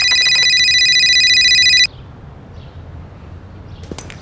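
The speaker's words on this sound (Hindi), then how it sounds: "मैं फिर से मेरे काम में बिजी हो गई और फिर 1 घंटे बाद रंजीत ने कॉल किया मुझे।" An incoming call on a telephone rings with a loud electronic tone for nearly two seconds and then stops abruptly, leaving a quiet room with faint background noise.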